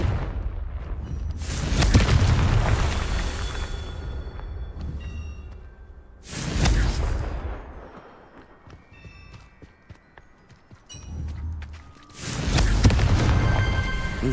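Confringo fire spell blasts in Hogwarts Legacy, three loud booming bursts separated by quieter rumbling game ambience between them.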